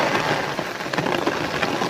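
Heavy rain pours down steadily over a village, a dense, close hiss of drops drumming on surfaces with no break across the short stretch.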